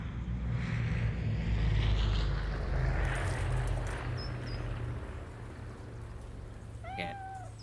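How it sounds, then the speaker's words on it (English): A very loud airplane roars overhead in the Cafe Owner Simulator game, a broad engine rumble that swells early and then fades, with a few short, high chirping calls near the end. "there goes that freaking crazy loud plane"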